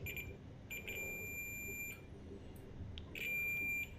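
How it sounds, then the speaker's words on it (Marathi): A multimeter gives a continuity beep while testing the electrics on a new Royal Enfield motorcycle: two steady, high-pitched tones, one longer and one shorter, over a low background hum. "बीप येतो, याचा अर्थ कंटिन्युटी चांगली आहे मेटलवरती."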